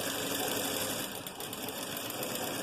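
A sewing machine stitches a garment seam along a marked line, a loud, continuous rapid mechanical whirring up close with steady motor hum.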